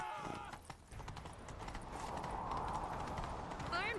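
Horse hooves clip-clopping at a gallop in The Witcher 3, a steady rapid rhythm of hoofbeats running throughout over game ambience, close and moderately loud.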